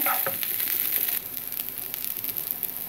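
Rice sizzles steadily while frying in ghee for a sweet jorda rice dish, a close, continuous crackling hiss with no talking.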